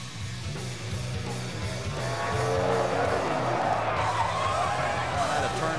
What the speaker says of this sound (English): Terrible crash there for Denny Hamlin